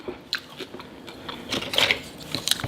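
Someone bites and chews crunchy homemade tortilla chips up close, with a series of sharp crisp cracks and crunches growing denser toward the end.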